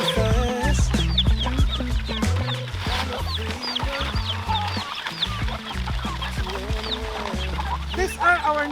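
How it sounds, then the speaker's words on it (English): Native chickens cluck and chatter continuously, many birds close by, with scattered sharp calls over a busy, steady background. "These are our native chickens"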